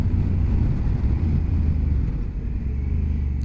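A two-cylinder motorcycle engine drones steadily in fifth gear with a low, rough rumble and constant wind noise, loud and unbroken, with no talking.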